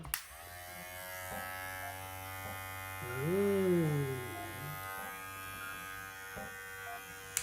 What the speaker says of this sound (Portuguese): vamos dar uma olhada no ruído dessa máquina